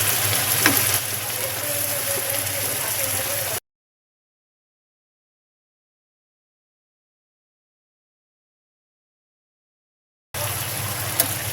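Boal fish frying over high heat in a pan, a steady loud sizzle that runs for a few seconds, drops to a long silent gap, then returns briefly at the end.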